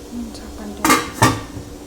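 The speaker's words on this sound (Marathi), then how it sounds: "झाकण ठेवायचं." A metal lid set onto a cooking pot in a home kitchen while making kothimbir vadi, two close, sharp clanks about a third of a second apart, with a faint low hum between them.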